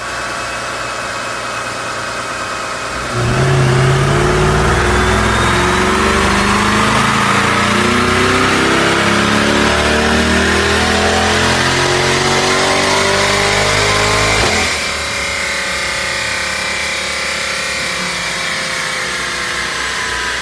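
A 2020 C8 Corvette engine on a dyno idles, then revs hard in a long climbing pull, loud and roaring for about ten seconds before dropping back to idle.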